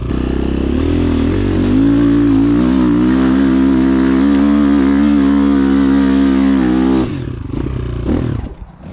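A Rottor Nemesis 250 motorcycle accelerates hard, its engine droning loud and close with rising revs for several seconds before cutting off into wind noise and a brief clatter.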